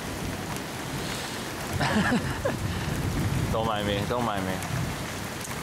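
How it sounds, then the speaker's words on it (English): Heavy rain from a thunderstorm pours down in a dense, constant hiss close by, with people talking briefly over the downpour. "we're getting hit by a huge thunderstorm right now, and I'm getting kind of wet"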